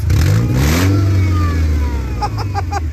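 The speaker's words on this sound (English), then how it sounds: "I'm running open headers right now" A loud car engine on a Mercedes W202 with open stainless steel headers revs up sharply and then settles into a rough, throaty idle, close by.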